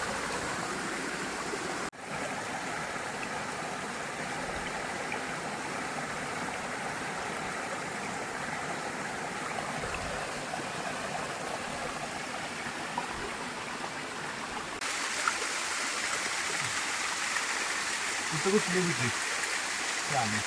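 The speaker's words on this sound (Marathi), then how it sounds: "वड्याला पाणी बऱ्यापैकी सुटलंय कारण रात्रभर पाऊस पडलाय" Steady rushing water of a stream swollen after overnight rain fills the whole stretch, a constant broadband roar with a slight shift in tone partway through.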